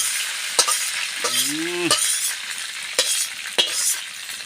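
Spices drop into hot oil for a pot of khichuri and sizzle loudly and continuously, with sharp clinks of stirring and a brief rising squeal partway through.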